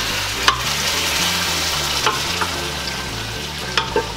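Boiled, softened beef tendon going into a pot for balbacua. A loud, steady frying sizzle plays throughout, with a few sharp clinks of utensils against the pot, close up and with no talking.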